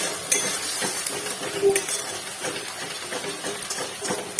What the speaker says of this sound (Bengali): সামান্য জল দিয়ে মশলাটা ভালো করে কষিয়ে নিচ্ছি